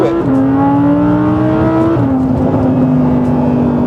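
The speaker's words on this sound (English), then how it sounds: "I feel like the exhaust has added to that excitement, or added to that experience" An Audi R8's exhaust revs loudly and continuously up close, its tone climbing steadily before dropping sharply partway through, like a gear change, then holding a strong, even note with no talking.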